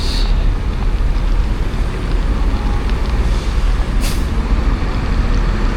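A Sumber Alam intercity bus arriving at a stop on the Jakarta–Jogja route, its big diesel engine rumbling loudly and close, with a brief sharp hiss of air brakes near the end, no talk.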